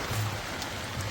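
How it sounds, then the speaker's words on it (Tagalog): Heavy rain falls at a mountain campsite in Calamba, Laguna, as a steady, dense hiss of drops on a surface with a low background rumble and no talk. "Grabe lakas ng ulan mga boss."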